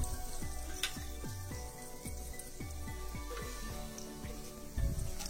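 Asafoetida and a spoonful of mustard seeds hitting hot oil, a crackling sizzle with a series of sharp popping bursts at irregular intervals over a steady frying hiss, fairly close and moderately quiet, no voices.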